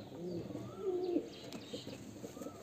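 A Murshidabadi Giribaj pigeon gives a soft, low cooing call close by, swelling briefly in the middle against a quiet room background, with no voices.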